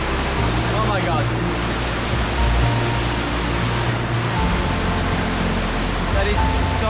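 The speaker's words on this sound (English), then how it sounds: "Natural pool, waterfall, beautiful place." Waterfall pouring into a natural pool in a nature area of La Guajira, a constant dense rushing roar heard close and unbroken throughout.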